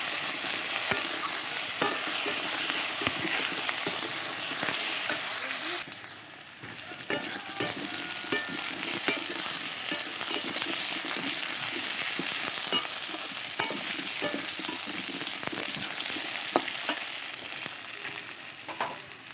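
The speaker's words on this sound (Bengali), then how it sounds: "কচুটা ভালো করে পেঁয়াজ রসুনে ভাজা হয়ে গেলে তারপরে দিয়ে দিচ্ছি লবণ" Chopped taro fries in oil with onion and garlic in a pan, giving a steady close sizzle broken by repeated scraping stirs throughout.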